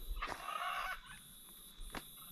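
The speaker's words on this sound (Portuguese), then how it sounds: "tem umas araras ali em cima." A blue macaw calls from up in the trees at a rural property, giving a harsh, raspy squawk followed by a shorter cry, heard at a distance over quiet outdoor background.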